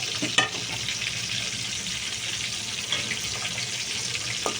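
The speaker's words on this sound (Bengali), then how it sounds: "এবার মাছটাকে ভালো করে আমি ভেজে নেবো।" Katla fish pieces fry hard in oil in a pan, giving a quiet, steady sizzle with faint crackles and a few brief clinks throughout.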